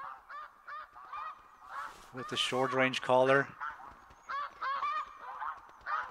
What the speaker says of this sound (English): The geese are coming in.